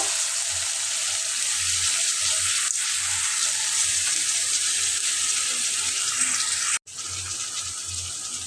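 Oil frying in a pan as bitter gourd is about to go in, a continuous close sizzling hiss with faint low bubbling pulses, steady throughout apart from a brief break near the end.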